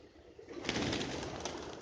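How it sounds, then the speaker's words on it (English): Pigeons gathering to eat broken rice coo softly in a low murmuring rumble, mixed with a rush of movement and wing noise close by. "see how many pigeons are coming up for food"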